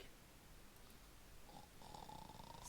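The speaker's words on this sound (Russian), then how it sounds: "Сладко храпит чел." A character sleeping in the video game Project Zomboid snores softly, with faint breathy rasps that rise a little toward the end.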